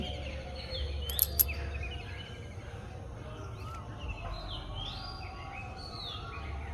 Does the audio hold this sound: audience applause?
no